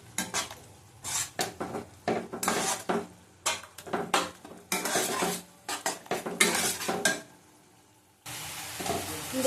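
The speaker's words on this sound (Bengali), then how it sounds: "ভালো করে কষিয়ে নেব। আঁচ কমিয়ে কমিয়ে কষাতে হবে।" Katla fish curry being stirred and sautéed in a pan over lowered heat, with metal spoon scraping and clanking against the pan in bursts over a soft steady sizzle of oil, close and fairly loud, no talk.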